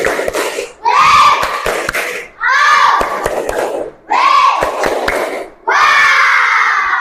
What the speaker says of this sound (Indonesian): Beri tepuk wow.